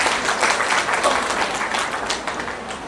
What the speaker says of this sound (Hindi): मैं चाहूँगा जोरदार तालियां उनके लिए हो जाए।